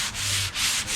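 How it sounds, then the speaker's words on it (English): Sandpaper of 220 to 320 grit is rubbed by hand across a wooden table finish, three quick close scratchy strokes in a steady back-and-forth rhythm. "220 to 320 grit, and I'm just going to hand sand it"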